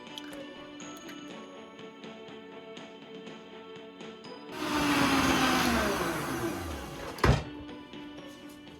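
Electric mixer beating vanilla sheet cake batter with eggs, a steady loud whirring that starts midway after a quieter stretch of faint ticking, then a sharp clatter near the end.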